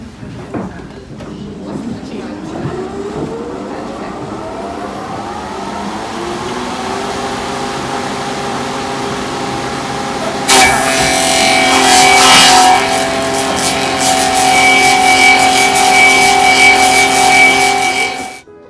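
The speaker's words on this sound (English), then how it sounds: "we're going to create the outside shape of a wooden shoe with this machine" A copy-carving machine runs with a spinning blade cutting a wooden shoe, a steady motor whine that rises in pitch and then gives way to a loud, harsh grinding roar for the last several seconds.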